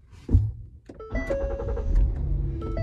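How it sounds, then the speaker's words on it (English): A new car starting up at the push of a button: a thump and motor whir, then an engine turning over and settling into a steady idle with electric motor whine, close and alone. "Start the car."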